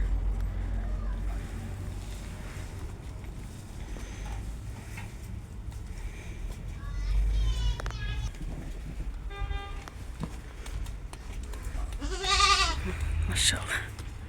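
Several goat bleats ring out, including first-born Alpine goats and kids offered for sale at a farm, with short cries around the middle and a louder, longer bleat near the end over steady low background rumble and faint voices.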